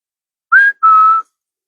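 A person whistles two short notes, the first rising slightly, the second held a bit longer, close and clear in silence.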